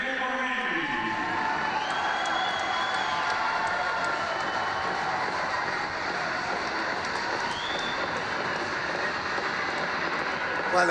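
Judo arena crowd at the Tashkent Grand Slam 2024 roaring and cheering as a steady, dense wash of voices, heard beneath a commentator's talk.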